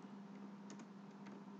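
C code is being typed on a computer keyboard, producing soft, scattered key taps over a steady hum of room noise, with no voice.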